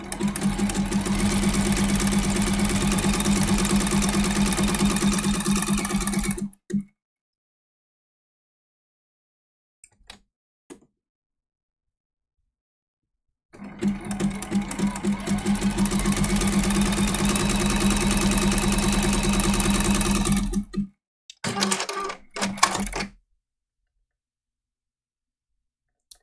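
A sewing machine stitches through the quilt top, batting and backing of a mini appliqué quilt in two loud, steady bursts of rapid whirring, separated by silence and followed by a few short stops and starts.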